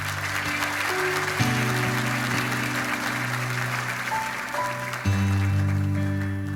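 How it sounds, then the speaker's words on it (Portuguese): A church congregation applauds during a sermon on grace, a continuous soft wash of many hands clapping under sustained organ or keyboard chords that shift in pitch, moderately loud and steady throughout. "Pode aplaudir se vocês quiserem"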